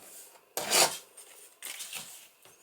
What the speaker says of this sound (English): I might trim just a little bit more.